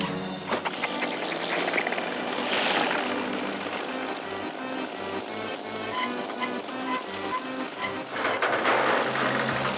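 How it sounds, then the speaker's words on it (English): A robot's propeller spins up during a test in a Masha and the Bear cartoon, giving a steady, loud engine-like drone with a whirring buzz that holds throughout, with music-like tonal layers mixed underneath. "Time for testing number 1. Propeller."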